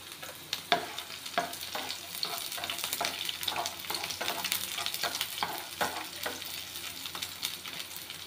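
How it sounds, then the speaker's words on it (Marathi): Garlic, ginger and green chilies fry in a pan for hotel-style soyabean chilli, with a constant crackling sizzle and repeated scraping stirs from a spatula, close and fairly quiet with no speech. "त्यामध्ये आता अद्रक ॲड करायचा आहे, मिरची ॲड करायची आहे, मस्त फ्राय करून घ्यायचं आहे त्याला"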